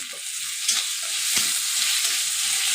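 Chopped tomato fries in a pan, a constant bright sizzle close by with a couple of sharp spoon knocks and soft scraping strokes as it is stirred.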